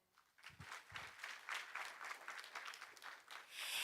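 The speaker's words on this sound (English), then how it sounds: "Please give KOSEF a big round of applause once again." Audience at a summit opening ceremony in Daegu applauding sponsor guests, a soft dense round of clapping that swells after a few early claps and holds steady, heard from within the hall.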